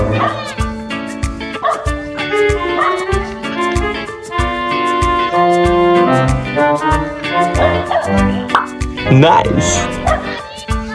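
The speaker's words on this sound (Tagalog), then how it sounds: "Yung mga aso natin yan." Several pet dogs bark, yip and whimper excitedly and continuously, close and loud, with people talking and calling over them.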